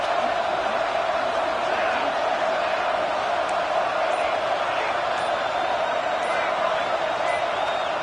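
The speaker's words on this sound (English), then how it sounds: "with this place rocking, the crowd forces a false start" A stadium crowd at a Tennessee versus WVU football game keeps up a dense, continuous roar, a broad wall of noise with no breaks.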